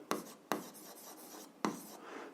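A pen scratching across paper while working an algebra exercise, three sharp strokes starting at intervals with softer continuous scribbling between them, close and quiet.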